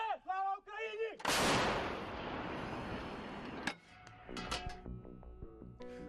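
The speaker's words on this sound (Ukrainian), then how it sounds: "Ці гармати М46 працюють майже безперервно." A heavy blast from an M46 artillery gun erupts after a brief voice, followed by a long rolling boom that decays into rumble, then scattered clanks and movement nearby, on the front near Soledar.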